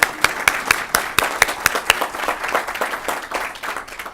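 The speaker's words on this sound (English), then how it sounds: "applause are worth it" Audience applause at a business innovation event, a dense patter of many hands clapping steadily for about four seconds, moderately loud with no speech over it.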